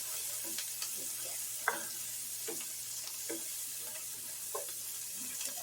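Onions sautéing on medium-low heat in a pan, a soft, steady sizzle broken by intermittent scraping stirs, close and fairly quiet with no speech.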